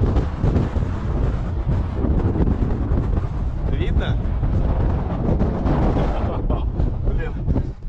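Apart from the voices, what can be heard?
strong wind at a cliff edge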